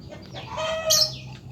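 A chicken recovering from ngorok, a snoring respiratory illness, treated with packaged herbal medicine, clucks and squawks in a short burst that rises to a sharp call near the middle, close and alone.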